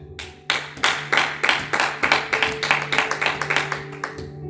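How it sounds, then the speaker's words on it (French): A church congregation claps steadily, a dense patter of many hands close by, building quickly and sustained throughout. "Donnons une pluie d'acclamation pour la parole de Dieu."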